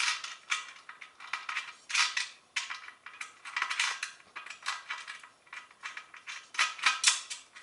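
A washer being tightened on a 50mm carbon clincher wheel gives repeated sharp metallic clicks and ratcheting ticks in irregular bursts, close and crisp, with no talking.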